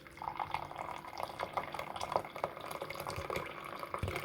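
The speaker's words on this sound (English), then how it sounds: "pour in the water." Boiled water from a kettle pours into a cup for tea, a steady close trickle and splash that lasts for several seconds.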